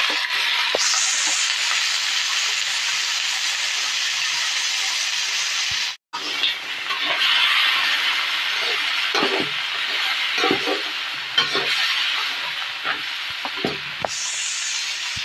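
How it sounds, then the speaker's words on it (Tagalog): Crab (alimasag) hitting hot oil with garlic and onion in a pan for adobo: a steady broad sizzle, close and loud, with scraping stirs and a short break near the middle before the frying resumes. "Nag-isa po tayo ng bawang, sibuyas. Lagay na po natin ang animasag."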